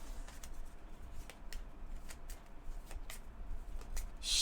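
Playing cards for a tabletop game being shuffled by hand, a run of soft riffling flicks and taps at close range that ends in a brief louder rush of cards, with no voices.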